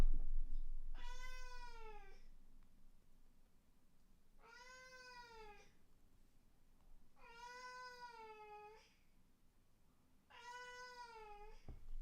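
A cat meows four times in a row, each call long and clear with a drawn-out, bending pitch, spaced a couple of seconds apart close by in a quiet room, with no talking.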